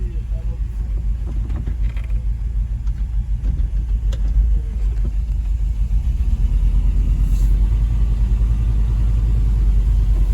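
An International Scout II, parked for 20 years and low on brakes, rumbles along at low speed with a heavy, steady engine drone and wind buffeting on the microphone, close and loud throughout.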